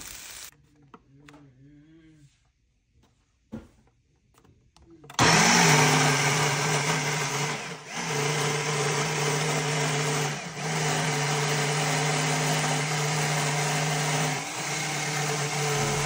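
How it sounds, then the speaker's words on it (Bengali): Dried fish (shutki) being ground in an electric blender: after a quiet start with a few handling clicks, the motor roars on loud and close and whirs steadily, dipping briefly a few times as it works. "এখানে খুব ভালো মতো আমি ব্লেন্ড করতেছি, মোটামুটি বেশ ভালো মতোই ব্লেন্ড করতেছি"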